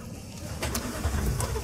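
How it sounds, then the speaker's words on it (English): A car engine in Cyberpunk 2077 turns over and catches, then settles into a steady mid-pitched idle hum, fairly close, with a few bright clicks and faint ambient chirps over the running motor. "let's start the engine"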